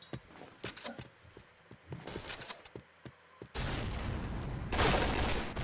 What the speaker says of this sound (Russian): Нереальная стрельба от этого парня